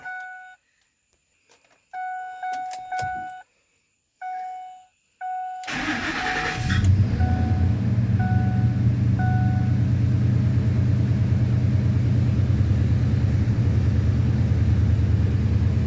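Several electronic beeps and chimes sound first, then a Ford F-150 with a 5.4L engine cranks briefly and fires up, settling into a loud, steady idle close by.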